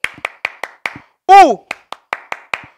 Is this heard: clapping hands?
yes